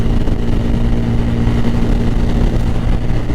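A motorcycle engine revs hard during a short track race on a long ride from Pondicherry to Yelagiri, the roar loud, close and continuous, with no talking.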